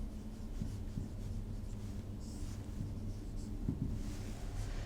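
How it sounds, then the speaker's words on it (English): Pen or chalk writing out an example during a signals and systems lecture, faint scratchy strokes in short bursts over a quiet room hum. "Let us write down this example"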